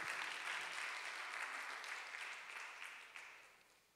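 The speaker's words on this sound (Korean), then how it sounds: "박수로 좀 격려했으면 좋겠습니다" A church congregation claps steadily in a room, dense applause that gradually fades toward the end.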